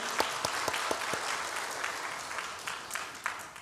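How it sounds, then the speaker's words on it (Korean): A church congregation claps together through a Sunday service, a steady, moderately distant wash of many hands with a few sharper individual claps standing out. It carries on evenly for the whole stretch. "우리 큰 박수로 한번 격려할까요?"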